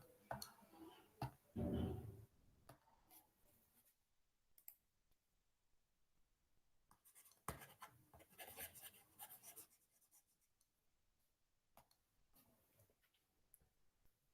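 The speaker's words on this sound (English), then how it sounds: "I am writing solution." Hand writing out a physics solution, with soft scratching pen strokes and clicks coming in short bursts with quiet gaps, close and faint.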